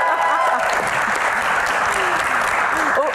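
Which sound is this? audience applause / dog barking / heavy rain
audience applause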